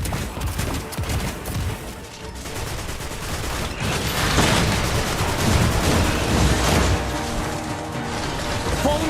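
Rapid gunfire fills a Destiny-style phone shooter as players fire at a Berserker's legs, a dense continuous fusillade with booms and mechanical clatter layered throughout, loud and close.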